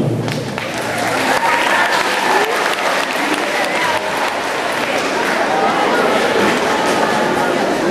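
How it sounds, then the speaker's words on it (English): An assembly audience, likely in a school gym, bursts into loud sustained applause and cheering, a dense crowd roar of clapping filling the whole stretch with some voices mixed in. "Now let's get Sarah a big round of applause and welcome her to show this film"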